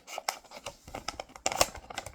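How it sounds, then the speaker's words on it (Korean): Scissors snip a paper kit box along a dotted line in a run of quick, close, crisp cuts, with a louder burst of snipping near the end. "여기 점선 또 오려볼게요"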